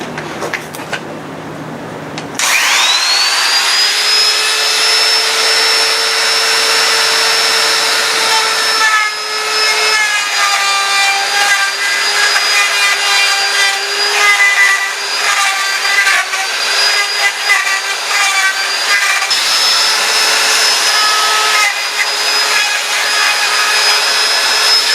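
A router cuts into a plastic sewer cap for a driveway. A loud, close high-pitched whine starts abruptly after a brief lower hum and holds steady, with the pitch dipping and rising slightly as the bit bites into the plastic.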